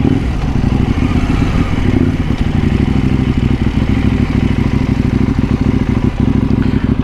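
A KTM 790 Duke motorcycle rides in sport mode, its engine giving a loud, continuous, close-up drone mixed with buffeting and rattling throughout.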